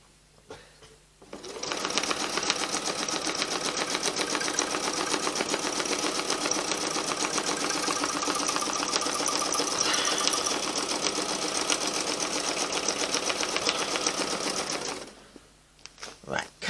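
A sewing machine runs steadily for about fifteen seconds, its fast needle clatter close and even as it quilts a meandering heart stitch across a Valentine quilt top, starting and stopping abruptly.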